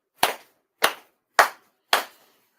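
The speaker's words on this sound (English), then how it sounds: "4 sincere claps along with the head officiant" Four sharp, evenly spaced ceremonial hand claps at a spring grand memorial ceremony, each a crisp isolated crack with a short decay, separated by silence.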